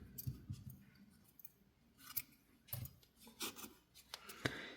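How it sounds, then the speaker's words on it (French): Scissors snip the yarn on a small crocheted Christmas amigurumi, a few quiet close-up cuts and clicks mixed with soft rustling of the yarn. "je vais couper le fil"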